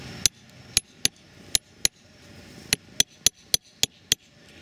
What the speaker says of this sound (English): I'm going to attempt to kind of chisel around the line I want it to break at